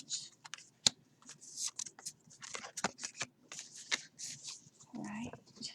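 Tarot cards are shuffled close by, a quick run of soft riffling flicks and papery taps with uneven rhythm, and a voice briefly speaks near the end.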